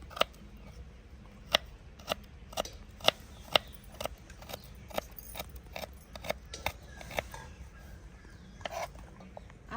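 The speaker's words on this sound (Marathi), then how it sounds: "पण आल्याचे छोटे छोटे तुकडे करून घ्यायचे" Ginger is chopped into small pieces on a board, a series of sharp, irregular knife taps spaced through the clip, fairly close but soft against a quiet room background.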